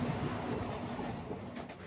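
A Guruvayur–Ernakulam passenger train runs along the track with a loud, steady rumble and faint wheel clatter. The train is heard from on board, and no one speaks.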